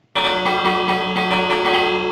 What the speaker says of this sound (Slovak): Jeden zvon si asi naťažím.